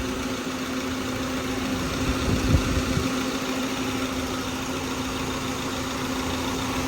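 A radiator cooling fan whirs over the idling engine of a 2007 Kia Spectra, a steady close hum with a constant tonal drone and brief low thumps midway, no talking.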